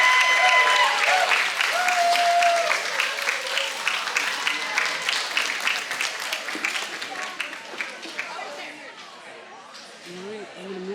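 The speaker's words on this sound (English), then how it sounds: "Lots of applause." Festival crowd applauding as a team enters at a sheep and wool festival, steady dense clapping from many hands with voices chattering underneath, gradually thinning toward the end.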